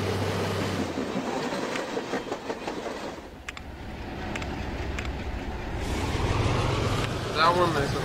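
An Alco locomotive in Chris Sawyer's Locomotion rumbles along with a low, continuous rolling and clattering that dips midway and then swells again, while a person talks throughout.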